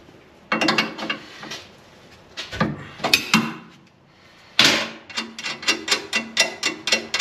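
Wrench work on a Muncie 4-speed gearbox: bursts of metallic ratcheting clicks loosening bolts, several short sequences close up with brief pauses between, ending in a steady run of rapid clicks.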